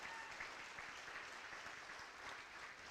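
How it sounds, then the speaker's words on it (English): Applause from the crowd at a high school fall sports awards banquet, given for a football player's kick and punt return performance: steady, continuous clapping heard from a distance, with no one talking. "So how about a nice round of applause for Parker in that performance?"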